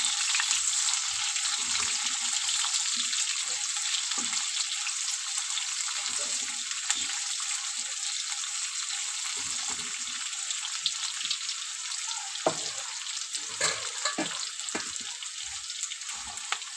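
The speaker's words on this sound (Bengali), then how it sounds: "দিয়ে দিলাম রসুন কুচি, আর বেশ ভালো করে আমি ভেজে নেব।" A large onion and chopped garlic frying in a pan, a steady close sizzle that runs on evenly with faint scraping and small bumps beneath it.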